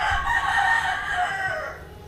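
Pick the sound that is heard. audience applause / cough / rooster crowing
rooster crowing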